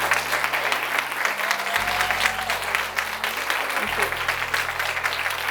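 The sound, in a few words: audience applause at end of keynote talk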